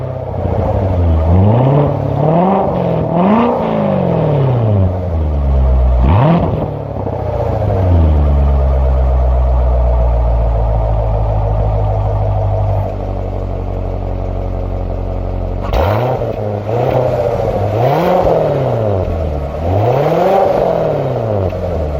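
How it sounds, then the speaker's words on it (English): A 2019 Corvette Grand Sport V8 revved repeatedly in sport and eco modes, loud close rising-and-falling throttle blips, then a steady idle and a long held rev, followed by another series of sharp rhythmic revs. "I'm going to show you a few revs in sport mode and a few revs"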